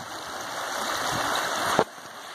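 A stream flows steadily nearby, a broad close rush of water with a brief splash near the end, no voices over it.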